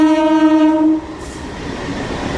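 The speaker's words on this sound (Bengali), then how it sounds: "এটা বর্ধমান যাওয়ার ট্রেন" A train bound for Bardhaman sounds a loud, steady horn blast for about a second near Hooghly station, then its rumble and rattle carry on as it passes close by without stopping.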